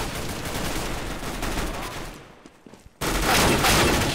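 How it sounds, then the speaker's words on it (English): Burst-fire gunshots in Counter-Strike: Global Offensive arrive as a dense, loud rattle of rapid shots, break off into a brief near-silence, then resume just as hard. "No, the burst fire came alive."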